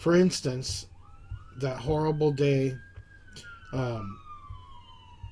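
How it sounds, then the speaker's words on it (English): Ambulance sirens wail from a busy street outside, a faint rising and falling tone carried in the background beneath someone speaking in a close conversational voice. "As you can hear the ambulances in the background"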